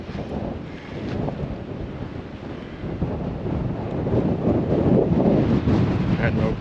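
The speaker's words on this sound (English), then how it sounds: "And that wind has just kicked up." Strong wind buffets the microphone near the Kimba lookout in South Australia, a steady, rough roar that builds and grows louder over the last few seconds, with no other sounds clearly standing out.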